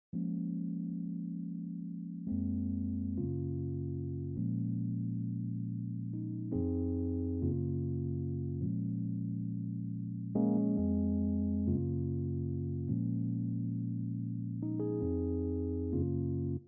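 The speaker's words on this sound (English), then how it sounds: "Then on top of the guitar we added some chords." Sustained synth chords change every couple of seconds in a slow, even progression, smooth and full with no percussion.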